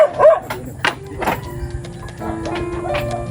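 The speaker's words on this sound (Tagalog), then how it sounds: "Ang tapang ho. Ayan. Oh. Tapang nung aso." A chained dog barks a few times nearby, sharp and intermittent, amid background noise and some faint voices.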